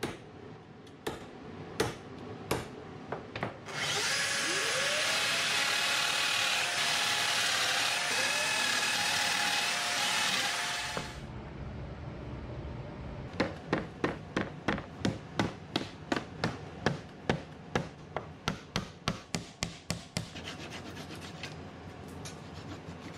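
Wooden dowel pins hammered into a wooden bed headboard: a few sharp taps, then a loud steady whooshing machine-like noise for several seconds, followed by a long run of rapid, evenly spaced hammer blows, close and crisp.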